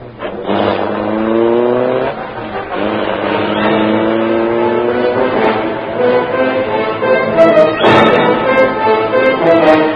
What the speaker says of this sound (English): The great car roared into life.